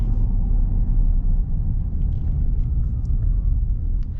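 A 2025 Ford Super Duty Tremor pickup with the 7.3L V8 gives off a deep, steady low-end rumble, loud and close, with no talking over it.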